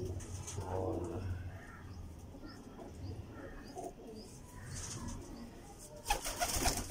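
Pigeons kept for cross breeding cooing softly in repeated low throaty calls, close by against a quiet background, with a brief burst of rustling or wing flapping near the end.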